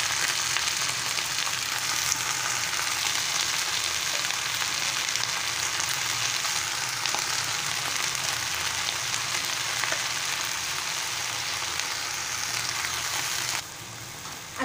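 Drumstick leaves sautéing in hot oil with onion and green chilies, a steady, dense sizzle that stays loud and even throughout with no voices.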